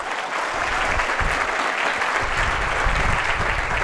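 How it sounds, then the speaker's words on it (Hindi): Steady audience applause at an induction program for a management institute, a dense, continuous wash of clapping at even loudness throughout, with no clear voices over it. "ताली बजाओ इसके लिए भाई"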